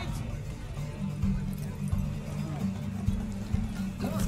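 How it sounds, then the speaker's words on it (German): Horse hooves pounding in a gallop during a race in The Witcher 3, steady rhythmic clip-clop thuds close by, under a person talking. "Aber eigentlich wollte ich jetzt kein Pferderennen machen."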